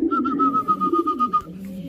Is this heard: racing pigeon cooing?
yes